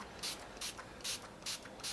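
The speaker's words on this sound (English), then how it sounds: "Just need a light spray of it." Five quick spritzes from a spray bottle hiss at an even rhythm, faint and close, with nothing else around them.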